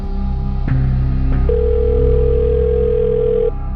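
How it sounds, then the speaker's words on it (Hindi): A telephone line tone sounds steadily as a call goes unanswered, a continuous electronic hum with a brighter tone joining midway and then cutting off, loud and alone with no voices. "ये तो फोन ही नहीं उठा रही सर"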